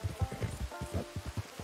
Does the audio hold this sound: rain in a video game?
yes